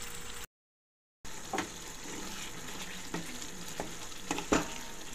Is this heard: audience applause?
no